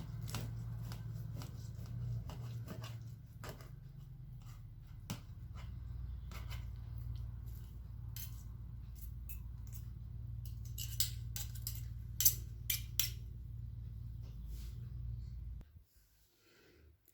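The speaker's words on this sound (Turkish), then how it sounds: "ben böyle büyük dilimler kesiyorum" Knife cutting through a tray of walnut kadayif dessert into large slices, a run of soft crisp crunches and scrapes over a steady low hum, close and moderately loud, ending abruptly near the end.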